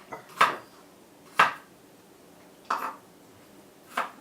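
A knife chops fresh ginger on a board in four separate strikes at uneven intervals, fairly close and clear, with quiet room sound between them.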